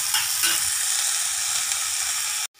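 Onions sautéing in a pan for potato masala give a loud, steady close-up sizzle with light stirring throughout, then cut off abruptly just before the end.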